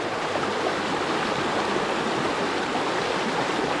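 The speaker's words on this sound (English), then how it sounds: "That's some serious water coming out of there" Water rushes hard and steadily out of a dug-out beaver dam. The roar is a dense, continuous torrent close by, with no talking.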